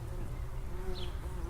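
Bees buzz close by around hollyhocks and rhododendrons in a garden flower bed, a faint, steady drone over a brief moment with no talking.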